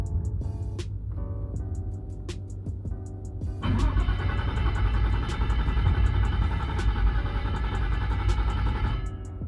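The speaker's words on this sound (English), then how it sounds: "now it holds idle" A Nissan S14 with an RB25 engine settles into a steady idle, a low continuous rumble close by that steps up in intensity partway through and then holds even; no talk over it.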